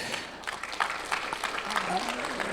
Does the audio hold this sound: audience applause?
yes